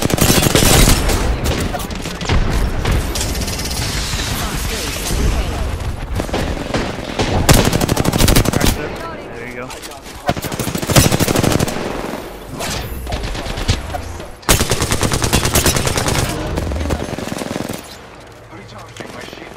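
Rapid automatic gunfire from the battle royale game Apex Legends, dense bursts of shots with brief pauses between volleys, loud and close, with game effects layered in and a voice talking over parts of it.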